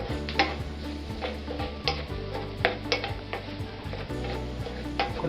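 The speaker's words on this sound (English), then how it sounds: "Continue sweating the meat." Meat sweating in a pan with diced chilies for samosa filling, a steady low sizzle under repeated light clinks and scrapes of a utensil against the pan, close and moderately loud.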